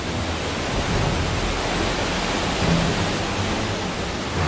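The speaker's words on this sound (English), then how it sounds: "they must cross the deep, threatening underground river" Deep underground river rushing through Son Doong cave in Vietnam, a dense, steady roar of water that fills the space, loud and constant with no voices.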